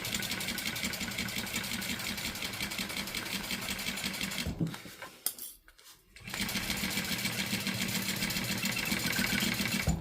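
A sewing machine stitches a Salem bag in a long, even hum, stops for about a second and a half, then picks back up at the same steady pace, close by.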